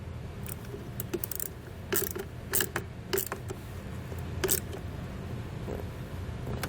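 A nut is threaded back onto a battery terminal stud on a towed vehicle in a series of short ratcheting clicks. The bursts come close together, with quiet pauses between them.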